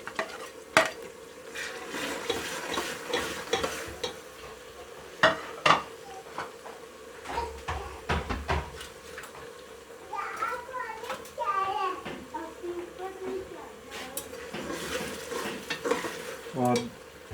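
Tomatoes for Delhi-style degi mutton biryani are stirred in a pot over a low sizzle, with intermittent utensil knocks. People talk throughout, and children's voices come and go in the background.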